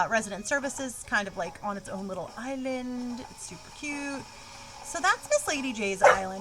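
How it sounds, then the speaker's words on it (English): A pet dog barks repeatedly indoors in short sharp bursts, mixed in with and partly masked by a person talking close by. "That's my dog barking because she's a jerk."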